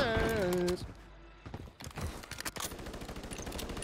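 Bursts of gunfire ring out in the Warzone battle royale game, scattered rapid shots following a brief tonal game sound, with irregular loud cracks continuing throughout.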